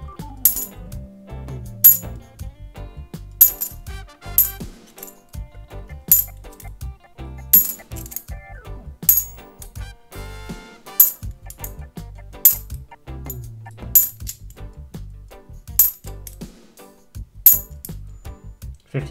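Pre-decimal copper half penny coins clinking and sliding as they are sorted by hand, with a steady run of sharp metallic chinks and small clatters close up, without speech.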